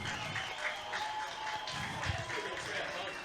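A crowd applauds and cheers at a street stock speedway race at Bunbury, faint and distant, a rough wash of clapping and roaring under a commentator's voice.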